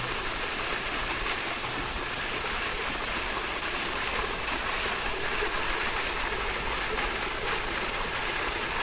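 Steady, broadband rushing of the Antharganga waterfall near Hyderabad, constant and fairly close, with no breaks or voices.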